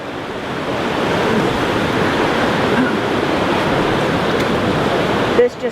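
Rushing river water beside a forest trail on Mount Hood, a steady loud broadband roar filling the whole clip with no breaks, close by and alone until a brief bump right at the end.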